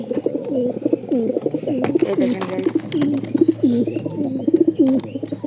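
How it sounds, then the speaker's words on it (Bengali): Two pigeons in a nest box with eggs coo in repeated, close, rolling phrases, one after another. A voice speaks briefly over the cooing. "এখানে দুটা কবুতর আছে"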